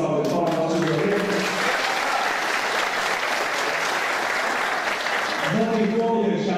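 Audience at a Brazilian political gathering applauds, a dense, steady wash of clapping for several seconds, with a voice over a speaker system talking at the start and again at the end.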